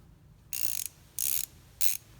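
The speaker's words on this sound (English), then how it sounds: "I just love the way these SK ratchets sound." An SK ratchet wrench clicks in three short bursts of rapid, fine clicking separated by pauses, close and crisp against a quiet background with no talking.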